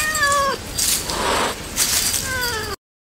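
A cat meows loudly and close by, in a drawn-out wavering call. It rises and falls, pauses briefly, then calls again before cutting off abruptly.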